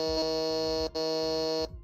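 Two harsh, buzzy electronic game-show buzzer blasts in a Team Fortress 2 quiz, each held steady for most of a second with a brief gap between, loud and close with no talking.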